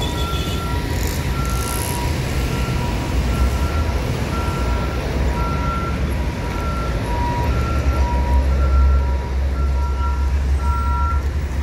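Trucks rumbling past alongside a bus on the road, a steady low engine roar with a repeating electronic beep pattern running throughout, fairly loud and continuous.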